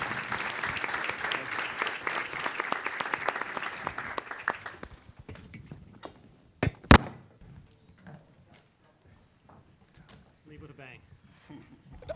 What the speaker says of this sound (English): I want to first ask for a great round of applause